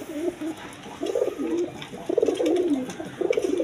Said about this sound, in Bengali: এক পেয়ার আপনার গররা কবুতর আছে, রেড কালার গররা কবুতর